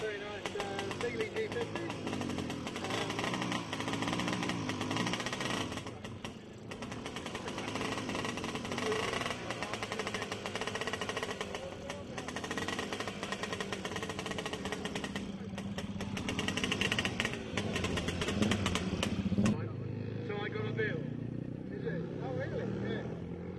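A Greaves two-stroke motorcycle climbs the Brooklands Test Hill with a dense, buzzing engine note that carries steadily for about twenty seconds before dropping away, with voices mixed in.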